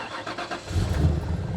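A Ford AU Falcon XR8 V8 fires up: a short starter whir is followed by a deep, loud rumble as the engine catches and settles into a steady, close idle.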